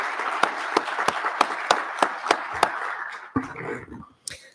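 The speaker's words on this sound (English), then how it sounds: "So how about a nice round of applause for everybody involved." A few people clap at a school board meeting in sparse, evenly spaced claps that trail off into scattered last claps.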